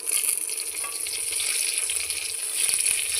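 Cashews, raisins, two bay leaves and four broken dried chillies fry in hot mustard oil, a close, steady high sizzle with a few light stirring clicks.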